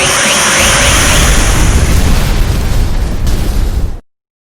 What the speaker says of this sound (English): Transport the 5 of us out of here before this explosion does it for us.